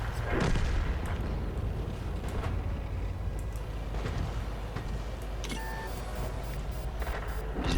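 Tank battle in the video game World of Tanks, with heavy booming shell impacts and gunfire, a strong blast near the start and another burst later, over a constant low engine rumble.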